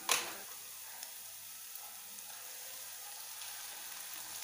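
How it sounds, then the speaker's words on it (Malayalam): Chopped tomato added to sautéed onion in a pan for Kerala-style beef roast, giving a steady soft sizzle with a small sharp onset at the start, faint and continuous with no talking. "1 തക്കാളിയും കൂടി ചേർത്ത് കൊടുക്കാം."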